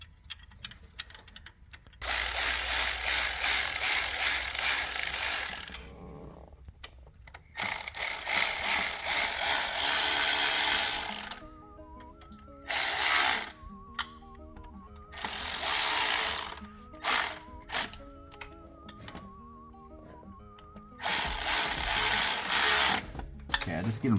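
A power tool snugging thermostat housing bolts on an engine during a low-temperature thermostat install, with several loud whirring ratchet bursts of varying length separated by quiet gaps, close up, and a voice talking in between.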